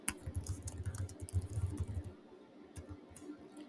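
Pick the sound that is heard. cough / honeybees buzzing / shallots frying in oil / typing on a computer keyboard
typing on a computer keyboard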